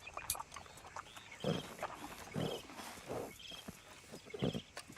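A horse in Red Dead Redemption 2, with snorts, low nickers and hoof clops repeating in short bursts over a soft game ambience.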